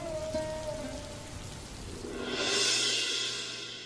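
Steady rain falls in an animated Hindi story scene, a continuous hiss of drops on surfaces that swells louder toward the end, with no talk over it.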